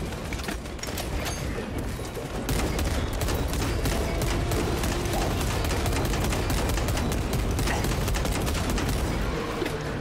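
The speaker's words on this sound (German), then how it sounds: "da kommen welche schmeiß ich mal eine Granate für die" Grenade thrown at enemies in Warhammer 40K Space Marine 2, amid a dense, continuous barrage of rapid gunfire and impacts that stays loud and steady throughout, with no clear separate blast standing out.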